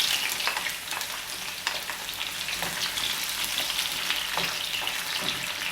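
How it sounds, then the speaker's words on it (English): Chopped peppers, onion and garlic sautéing in hot oil, a dense, even crackling sizzle up close with faint stirring scrapes mixed in. "So I basically gonna cook the seasoning into the hot oil."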